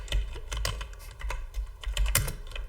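Code is typed on a computer keyboard in quick, irregular bursts of close, clear key clicks, with no talking.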